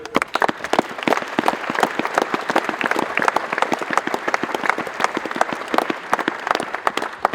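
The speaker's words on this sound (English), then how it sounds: "Can we have a round of applause for Barney, please?" Crowd applause for Barney at the Meath Hill v Longwood Junior D Final in 2012: sustained, evenly dense clapping from many hands, loud and steady throughout with little speech.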